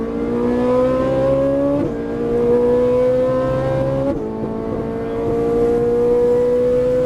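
A Ferrari 458 Italia on a race track revs hard and loud, its engine pitch climbing steadily through several gears, each rise broken by a sharp shift, with no talking.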